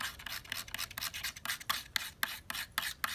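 Metal being ground off a stiletto knife blade during sharpening: a series of quick, close, gritty rasping strokes in an uneven rhythm, with no voices.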